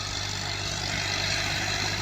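A Ghazi tractor engine runs steadily with a low, continuous drone and a broadband mechanical rumble, close and unbroken, with no voices.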